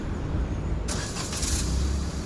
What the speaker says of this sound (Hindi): धीरे धीरे उठाओ गाड़ी को